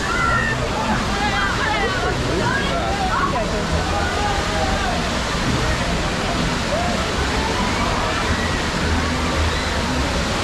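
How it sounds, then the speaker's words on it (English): Rushing water of the rapids ride at Europa-Park theme park, a loud, continuous roar of churning and sloshing water heard up close throughout, with faint voices mixed into the din. "We're just walking over the rapids now. You can hear loads of water."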